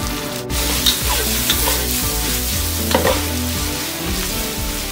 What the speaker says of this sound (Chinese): 蒜儿下锅